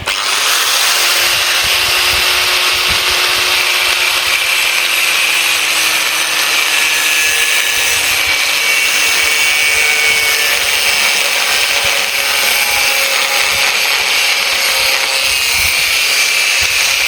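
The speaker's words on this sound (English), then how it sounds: "I'm gonna bevel this off, grind this back so there's a gap for when I weld" An angle grinder with a thin wheel grinds and bevels steel for DIY rock sliders, producing a loud, steady, high-pitched shriek that runs unbroken throughout.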